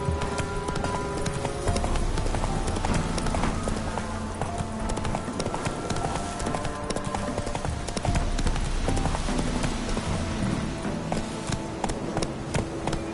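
Galloping hooves of a horse in The Witcher 3 on PS5 drum in a steady rapid clip-clop, loud and close, layered over busy game music and ambient sound.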